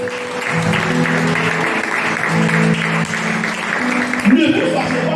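A church congregation applauding, steady sustained clapping from many hands with voices and music underneath, a voice rising over it near the end.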